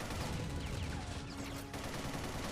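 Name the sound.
turret gunfire in Ninja Gaiden 2 Black video game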